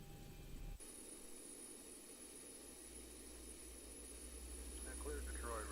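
Engine 1 of a Zibo Boeing 737-800 in X-Plane 12 spools up as a steady, loud jet roar with a continuous high whine, a low rumble building toward the end alongside faint voices.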